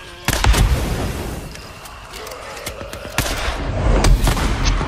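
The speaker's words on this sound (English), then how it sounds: "I'm being shot at." Gunfire aimed at the player in the video game Days Gone, with loud, sharp shots cracking out in uneven bursts over rumbling game ambience.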